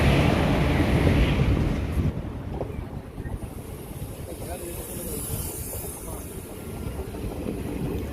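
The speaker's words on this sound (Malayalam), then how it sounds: "കായൽ പട്ടണത്തേക്കുള്ള നമ്മുടെ ട്രെയിന് പാളയം കോട്ടയിൽ എത്തിയിട്ടുണ്ട്" A passenger train rumbles along the rails in a steady low roll near Palayamkottai, Tamil Nadu, with wind buffeting loudly at the start.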